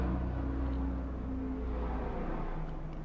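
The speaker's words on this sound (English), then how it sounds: "Pardon the chopper and all that," A helicopter passes overhead, a loud, steady low-frequency rotor drone with a broad rumble holding constant throughout, with no voices.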